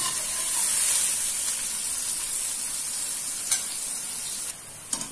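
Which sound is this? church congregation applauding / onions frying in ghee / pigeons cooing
onions frying in ghee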